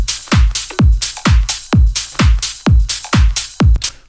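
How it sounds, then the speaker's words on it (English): Bright, shimmering cymbal wash rides over a driving four-on-the-floor dance beat with heavy kicks, loud and steady throughout. "halfway through the drop I'm adding some rides."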